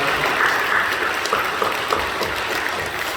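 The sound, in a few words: applause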